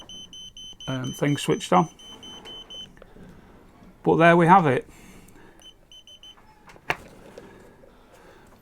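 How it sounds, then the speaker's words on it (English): A Raymarine Smartpilot autopilot sounds its no-network alarm, clear electronic beeps in short bursts near 1-2 seconds and again around 4 seconds, with someone talking between them. "It should come up with an alarm saying that it can't find a network"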